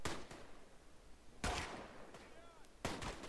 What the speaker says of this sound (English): That MG sounds dumb.